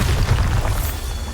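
A Bombarda explosion spell in Hogwarts Legacy, a deep muffled boom with rumbling low end that fades out over a second and a half, no talking.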